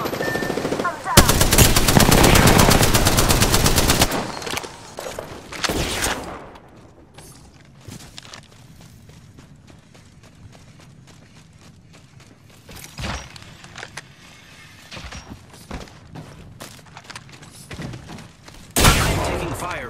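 Loud, dense automatic gunfire from the Apex Legends battle royale, long sustained bursts near the start, then quieter scattered shots and further short bursts toward the end, with game voice lines mixed in.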